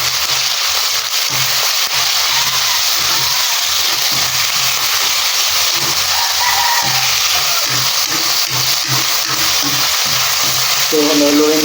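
Steady loud sizzling of shredded chicken sautéing in a pan, with dense crackle throughout and occasional stirring, close up.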